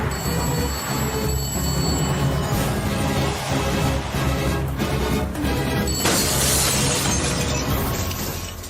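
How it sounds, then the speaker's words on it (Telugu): Glass shatters in a dramatic film scene. The sound is a dense, loud crashing and smashing that carries on without a break, with brighter bursts of breaking and no talk. "అద్దాలు కూడా బద్దలు కొట్టుకొచ్చేస్తున్నావంటే"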